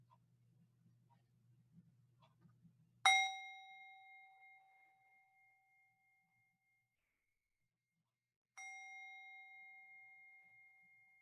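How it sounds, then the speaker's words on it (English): Two bell strikes open a church service: a bright ring with a long fading tail, then a second strike several seconds later after a quiet pause, following faint low rumble at the start. "will ring the bells that open our service"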